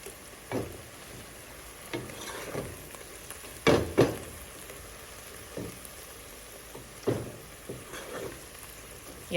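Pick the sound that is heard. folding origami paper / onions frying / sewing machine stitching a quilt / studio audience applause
onions frying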